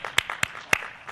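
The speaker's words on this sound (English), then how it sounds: "You should be clapping now." A few scattered hand claps from an audience at a conference demo, brief, sharp and sparse rather than sustained applause.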